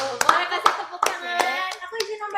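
A small group claps in a room during a student talk, a handful of sharp separate hand claps rather than a full ovation, close and uneven, with voices audible between them.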